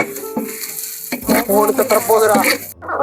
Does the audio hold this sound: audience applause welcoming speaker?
no